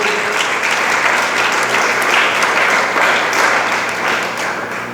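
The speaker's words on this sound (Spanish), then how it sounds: "Démosle palmas al Señor." A church congregation applauds for the Lord during a pastor's sermon, a loud, full, sustained burst of clapping from many people that holds steady for five seconds before easing slightly at the end.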